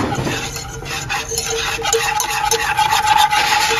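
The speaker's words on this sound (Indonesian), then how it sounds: "Dan 500 ml susu UHT full cream. Ini dimasukkan secara bertahap supaya nggak bergumpal, sambil diaduk-aduk seperti ini terlebih dahulu." A spoon stirs UHT full-cream milk into a pudding mixture in a pot, scraping and sloshing steadily at close range for several seconds with no voices.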